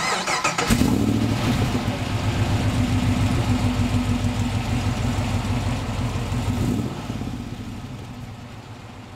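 A tuned high-output V8 in a restored Chevy Thriftmaster pickup cranks and catches, then settles into a loud, lumpy, rhythmic idle nearby before easing off, with one brief spoken word.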